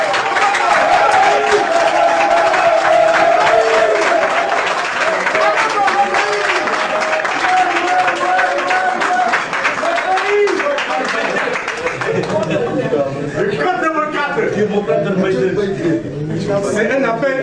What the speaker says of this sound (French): je demande à tout le monde d'applaudir